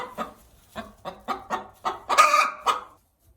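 A hen inside a chicken coop gives a series of short, close clucks in an uneven rhythm, building into a louder, drawn-out squawk near the end before falling quiet.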